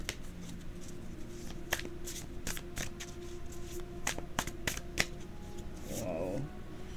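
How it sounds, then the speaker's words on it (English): Playing cards riffle-shuffled by hand in a series of sharp, crisp ticks and flutters, close and fairly quiet against a faint steady background hum. "I'm going to put these cards randomly in here and see what happens when I shuffle them"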